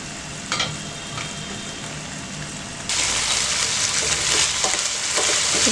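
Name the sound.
broccoli chicken frying in a pan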